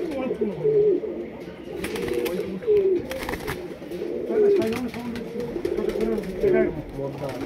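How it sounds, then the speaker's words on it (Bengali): A standing Madrasi pigeon coos repeatedly up close in a run of low, rolling calls over several seconds. "এই যে স্ট্যান্ডিং দেখুন পায়রা"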